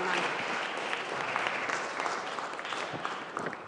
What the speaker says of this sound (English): But now let's give applause,